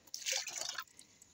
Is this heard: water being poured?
yes